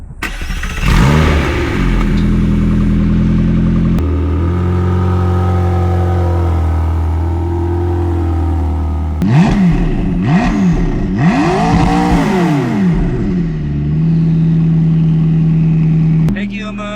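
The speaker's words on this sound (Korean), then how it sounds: "배기음은 약간 이런 편입니다. 이게 배기구도 크고 해서 소리가 상당히 큰데" A McLaren supercar with large exhaust outlets starting up from behind, then rising and falling in repeated loud revs before settling to a steady idle, the exhaust note close and dominant.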